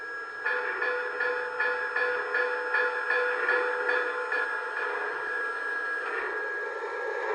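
An O scale model steam locomotive rings its bell through a tender speaker, giving a quick, even series of metallic dings that repeat for several seconds at moderate, close volume, with no voices.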